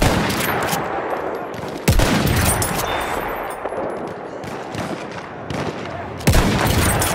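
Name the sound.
enemy machine gun firing in video game Battlefield 1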